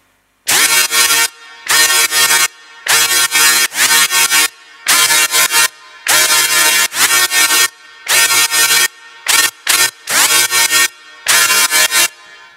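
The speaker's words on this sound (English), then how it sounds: "Now this is my main drop lead here, and it sounds like this." Main drop lead synth built in Serum, playing loud, bright, buzzy stabs in a repeating rhythmic pattern with short gaps between hits, no voices.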